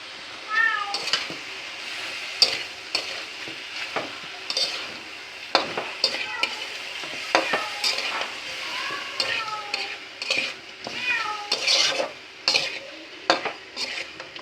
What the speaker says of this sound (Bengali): বিড়ালটা খুব বেশি ডাকাডাকি করতেছে